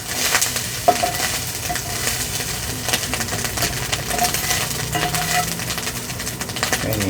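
A spatula scrapes food across a sizzling cast iron pan on a Gas One stove with the gas turned off, producing steady frying hiss with intermittent metallic scrapes and clinks close by.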